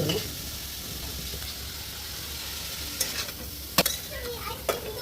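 Ginger and vegetables stir-frying for a momo filling, with a loud continuous sizzle and a few sharp utensil knocks toward the end.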